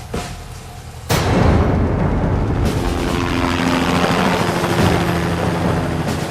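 Military helicopters arrive as soldiers gather, a heavy engine and rotor roar that jumps suddenly louder early on and then holds as a steady, close, powerful rumble with faint droning tones.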